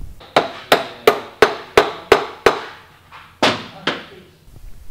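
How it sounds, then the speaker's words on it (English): A rubber hammer taps a motorcycle front axle through a Victory High Ball's wheel, giving about nine sharp, evenly spaced knocks, each decaying quickly, with a short pause before the last two, close and clear. "You may have to tap it a little bit with a rubber hammer to get it all the way through."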